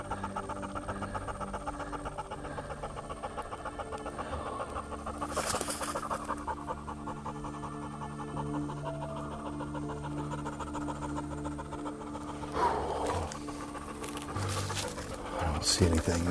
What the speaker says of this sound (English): her breathing is so freaking loud